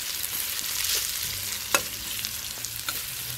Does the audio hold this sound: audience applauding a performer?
no